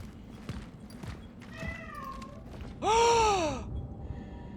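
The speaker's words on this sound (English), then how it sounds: "There's a freaking cat in there!" A cat in the video game Cronos: The New Dawn lets out a loud, drawn-out meow with a falling pitch near the end, after softer rustling and faint cries.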